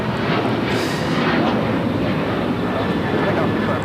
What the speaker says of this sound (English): This is United Airlines 2449 taking off to Las Vegas on the 737-900ER.